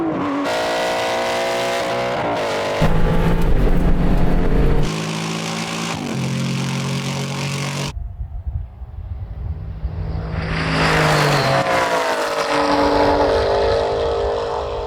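Aston Martin and other cars launching in a drag race, loud engines revving and rising in pitch through gear changes, then a cut to a second roaring pass that swells and fades.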